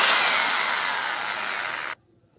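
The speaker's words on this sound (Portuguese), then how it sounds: "vocês só fazem o furo aqui na borda da forma, da assadeira" Power drill boring a hole through the rim of a metal baking pan, a loud steady whine for about two seconds that stops abruptly.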